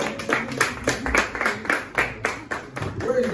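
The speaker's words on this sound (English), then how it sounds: "clap for yourself" Several people clap in uneven bursts during a palace visit by a group of children to a traditional ruler in Nigeria, with voices talking over and between the claps.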